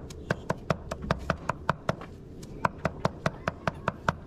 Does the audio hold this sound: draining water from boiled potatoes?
no